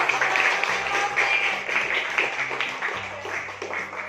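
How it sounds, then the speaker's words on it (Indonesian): An audience applauds after a group presentation in a teachers' training session, a moderate wash of clapping that gradually thins out, with faint voices mixed in. "Ya, tepuk tangan."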